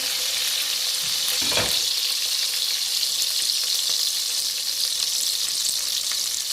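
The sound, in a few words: garlic frying in hot oil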